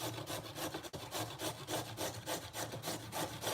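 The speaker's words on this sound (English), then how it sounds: "Okay, now we get grating." A carrot rubbed back and forth over a kitchen grater gives a quick, rhythmic rasping scrape, about three strokes per second, close and steady with no talking.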